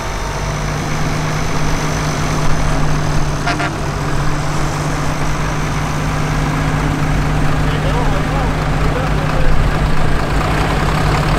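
International Harvester 856 tractor, a late-1960s Golden Demonstrator with gold hood, rumbling at a steady low idle in a parade, a continuous close engine drone with a brief ticking sound midway and crowd noise around.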